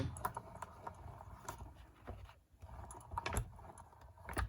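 Stacked cutting plates cranked through a manual die-cutting machine, a run of close, quiet rapid clicks and ratcheting ticks with a short pause midway, no speech.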